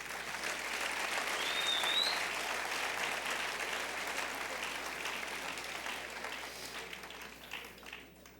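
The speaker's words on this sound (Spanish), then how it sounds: "Dale un aplauso a mi Señor" A church congregation at a Caracas house of prayer applauds in a steady, dense wash of clapping that stays strong for several seconds before thinning out near the end.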